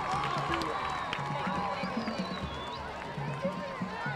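A stadium crowd at a high school football game, Georgetown Eagles versus Manor Mustangs, applauding teachers: a steady distant wash of clapping and cheering under an amplified announcer's voice.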